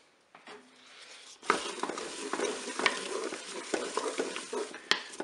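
Peach pieces and vanilla sugar are stirred in a Cookeo pot, starting near silent, then a spoon scrapes and clinks through the fruit in a busy, close run of stirring noises with a light sizzle underneath.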